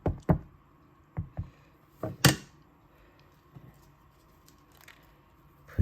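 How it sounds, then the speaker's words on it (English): A large star-shaped rubber stamp is pressed and tapped onto a navy ink pad, giving several close, sharp dabs and knocks in uneven pairs with quiet gaps between them. "So let me ink this up with Night of Navy."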